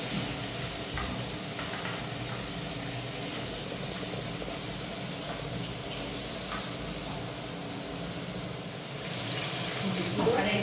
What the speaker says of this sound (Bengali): পরে কলাগুলো এখন ভেজে নেব।